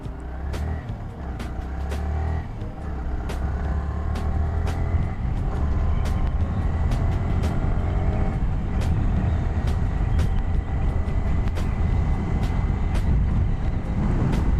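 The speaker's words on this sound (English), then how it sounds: "let me show you the braking test. I'll be doing from 60 to 0." Yamaha R15 V3 BS6 motorcycle braking from 60 km/h, with a continuous rushing road and wind roar under rising engine drone and sharp clicks and ticks throughout.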